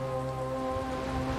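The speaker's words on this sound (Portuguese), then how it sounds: "De noite e chovendo." Rain falls at night in the video game Dying Light, a steady hiss of drops on surfaces running unbroken beneath faint sustained musical tones.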